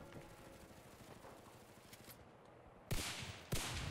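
Gunfire from the World War II shooter Enlisted, Pacific front, with a Browning Auto 5 shotgun in play: two sharp, loud bursts close together near the end, after a stretch of quieter, distant-sounding battle noise.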